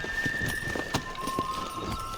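A horse gallops in the Red Dead Redemption video game, its rhythmic clip-clop hoofbeats steady and close over a constant background bed, with faint talk.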